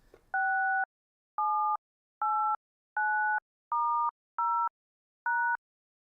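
Touch-tone telephone keypad presses, each button producing two pure tones at once: seven clean, evenly loud beeps of about half a second each, separated by short silences, sounding close and alone.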